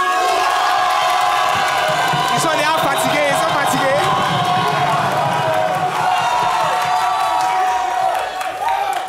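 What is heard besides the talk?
TV show audience cheering and applause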